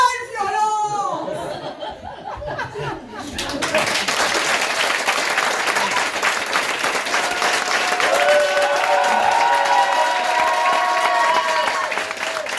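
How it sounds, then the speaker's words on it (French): Audience applause breaks out after someone speaks briefly in French, swelling into sustained, dense clapping from a large crowd with scattered laughter and whoops, loud and steady to the end. "Donc, les applaudissements."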